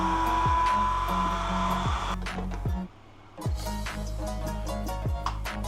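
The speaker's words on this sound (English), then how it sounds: "Using a grinder will not only turn your psyllium husk into a powder, but it will also help mix all the dry ingredients together." An electric grinder whirs loudly, powdering psyllium husk with dry ingredients in a kitchen, in repeated pulses with a brief pause near the middle.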